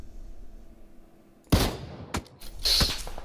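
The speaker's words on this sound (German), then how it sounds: "Oh, Schüsse auf mich wieder." Gunfire aimed at the player in PUBG: sharp cracks begin after a quiet stretch, with a lone shot and then a denser burst of reports, loud and close.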